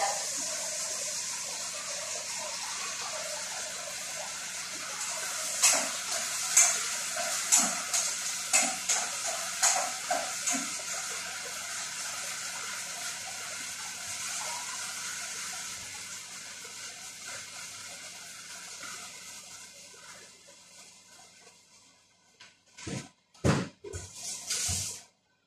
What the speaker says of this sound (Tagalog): lagyan natin ng maraming tubig